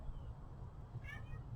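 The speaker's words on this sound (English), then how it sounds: "Oh, there's a cat." A cat meows outdoors during a gentle yoga session, a single short rising call heard clearly over steady low background noise.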